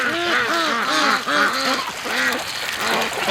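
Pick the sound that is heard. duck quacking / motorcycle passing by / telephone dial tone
duck quacking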